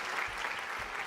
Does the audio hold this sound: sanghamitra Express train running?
no